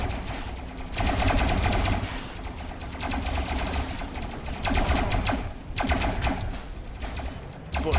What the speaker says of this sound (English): It'll fire forward